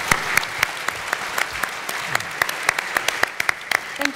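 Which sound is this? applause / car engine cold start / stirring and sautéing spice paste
applause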